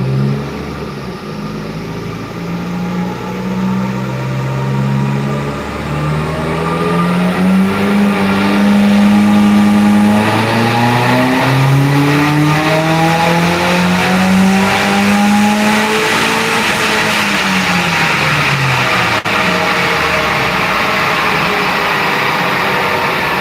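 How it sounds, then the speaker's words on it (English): A Corvette on a dyno roars through a long pull, its engine note climbing steadily in pitch for about fifteen seconds, then holding high and loud before easing off, heard from inside the car with a window partly open. "so you guys can hear the car better than just through the closed windows"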